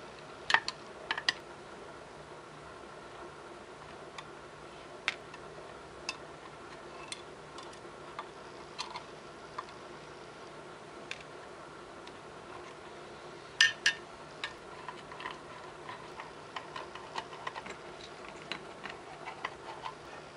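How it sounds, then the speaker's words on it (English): Small metal bolts being backed out of a treadmill control board: faint, scattered clicks and light metallic ticks spread across a quiet stretch, with a denser cluster of taps partway through. "So I'm going to take all these bolts out."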